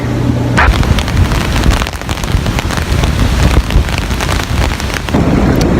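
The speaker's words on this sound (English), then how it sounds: "This is our first bad luck with rain." Steady rain falling outdoors in Coba, Mexico, a dense continuous hiss of drops on surfaces that stays loud throughout, with no voices.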